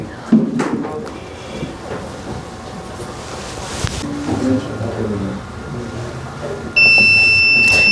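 Gas leak detector buzzer sounds as an LPG regulator shuts off during a leak test: a steady high-pitched electronic tone starts abruptly near the end and holds, over a noisy room with faint background talk.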